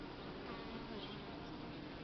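Bees foraging on pea flowers make a soft, continuous buzzing hum nearby, steady and low in level for the whole stretch.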